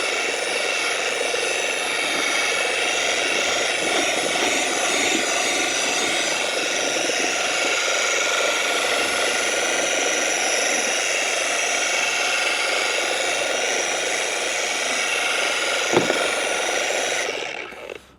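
A polisher spins a pad inside a Grit Guard pad washer at low speed, giving a steady, loud whirring drone with a hissing wash that holds evenly throughout and then cuts off near the end, with no talk.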